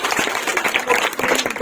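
Loud, steady applause from a school audience at a National Science Day event in Mehuwala, Dehradun, honoring a young girl's acting, dense clapping that runs continuously for the whole short stretch.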